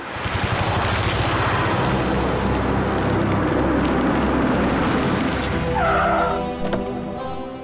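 A car engine roars loudly and steadily, then eases off as the vehicle pulls up and stops at a roadside dhaba.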